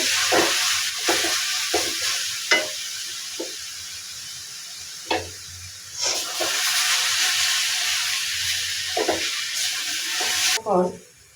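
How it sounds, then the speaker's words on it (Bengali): Carrot halwa is stirred in a kadai as it dries out and pulls away from the pan, with ghee added near the end: a run of soft, separate scraping strokes over a low, steady hiss, close by and fairly quiet. "ঘিটা দিয়ে আমি আবারও নেড়ে দিচ্ছি"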